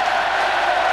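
A dense, roaring crowd at a Feyenoord celebration in Ahoy, Rotterdam, in 1999, sustained and loud, with cheering blended into the wash of noise.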